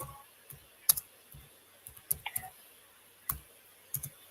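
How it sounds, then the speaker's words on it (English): Keys typed on a computer keyboard while taking notes, sparse irregular clicks and taps in short bursts, close and fairly quiet against a near-silent background. "I was just typing my notes."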